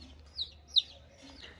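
Baby chicks bought at home give a few faint, thin high chirps, spaced irregularly, close by with a quiet background.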